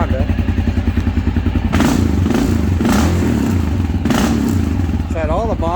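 A cold Honda XR650L motorcycle, fitted with aftermarket modifications, runs close by on its first start of the winter, with a steady low engine rumble and two louder bursts of revving. A voice pitches up briefly near the end.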